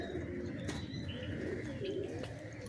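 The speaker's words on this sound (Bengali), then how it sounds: "এই মিল করা পায়রা দুটো দেখছেন" A mated pair of pigeons kept at a home loft coo steadily and nearby, soft low calls repeating throughout with a few higher chirps mixed in and faint background voices.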